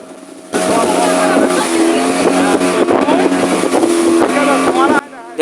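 A speedboat engine roars steadily and loudly during a ride on the sea at Patenga beach, its whine shifting in pitch as the boat turns, with wind buffeting the microphone; the motor cuts in and out at the edges.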